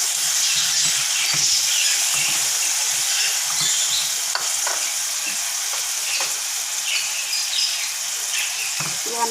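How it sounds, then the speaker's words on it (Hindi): Ginger garlic paste sizzling with tomatoes in a hot pan for dhaba-style mash dal, a loud, steady close-up frying hiss with intermittent stirring, continuous throughout without talk. "सबसे पहले हम अदरक लहसुन का पेस्ट डालेंगे।"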